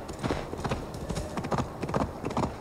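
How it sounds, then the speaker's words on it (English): Horse hooves gallop in Assassin's Creed Valhalla during a cinematic ride into the mountains, a steady, close clip-clop rhythm repeating throughout at moderate loudness. "Cinematic horse ride into the mountains."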